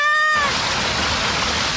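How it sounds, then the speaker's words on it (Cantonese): A waterfall in a cartoon garden roars in as a loud, dense, continuous rush after a short rising tone, and it stays steady to the end. "我哋個花園竟然有條瀑布嘅。"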